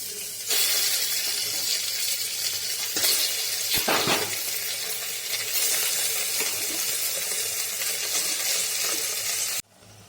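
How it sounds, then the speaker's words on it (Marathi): Rice tipped into a pan of hot oil with garlic, giving a loud, steady broadband sizzle with a brief clatter of grains early on, running continuously before cutting off abruptly near the end; no talking. "आणि लसूण जास्त न भाजता मी त्यामध्ये लगेचच भात घालत आहे"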